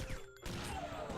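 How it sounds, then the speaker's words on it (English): Glass shattering in the side-scrolling game Iji, a single brief smash with a bright crash that cuts in sharply and then lingers as scattered debris under game sounds. "Gotta love how you can break the glass like that."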